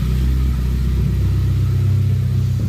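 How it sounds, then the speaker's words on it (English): An Audi A4 B5 1.8T quattro runs after an ICM harness delete, its engine giving a loud, steady, close-up idle rumble with no talk. "Car's running the same way it did before, no problem"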